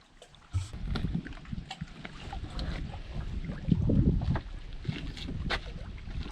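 Canoe paddling on a wilderness lake in Canada, with steady low water swishes and splashes from the paddle strokes under gusty wind noise, continuous and fairly near.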